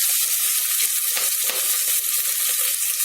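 Onions with curry leaves fry in a hot pan, a continuous close sizzle broken by repeated stirring scrapes and soft clatters over a few seconds, without talk.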